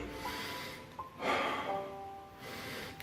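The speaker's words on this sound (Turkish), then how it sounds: "Çocuklar genellikle nefes al dediğimizde şu oluyor." A child-style shallow breath drawn in the wrong way, lifting the chest: a few audible sniffing inhalations and a gasp-like intake with a louder rush in the middle, close and clear, with no talking.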